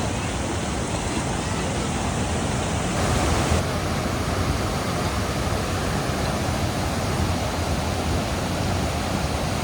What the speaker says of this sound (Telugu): మనం చూసుకోవచ్చు ఫ్లో అయితే హెవీ ఉంది అన్నట్టు